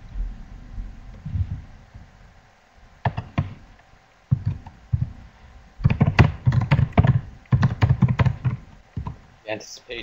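Rapid clicking of many computer keyboards as multiple webinar attendees type at once, irregular bursts of taps clustering in the second half, with faint room noise between them.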